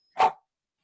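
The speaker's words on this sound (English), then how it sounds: "excuse my dog barks" A single sharp dog bark, loud and close, cuts through a silent background and ends abruptly.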